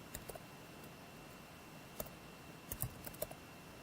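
Quiet typing on a computer keyboard at a command prompt, a few isolated soft key clicks with a small cluster of taps near the end, faint against low room hiss.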